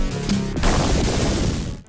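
Blasts from the Judge Dredd game on Sega Genesis: a loud, dense burst of crunchy explosion noise that sustains for nearly two seconds before cutting off abruptly, with no voices present.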